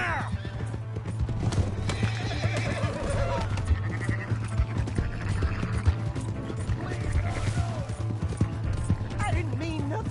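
Horse hooves clip-clop at a gallop in Red Dead Redemption 2, with loud neighs and whinnies rising over shouting voices and a low rumbling game soundscape.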